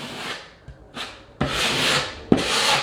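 A putty knife scrapes and smooths filler into a dented spot in drywall, four close rasping strokes of rising length, with no talking.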